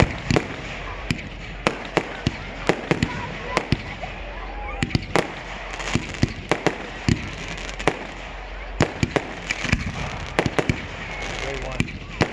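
Canada Day fireworks burst in a steady series of sharp, loud booms and crackles across an outdoor evening show, over constant crowd murmur, with people talking close by between the blasts.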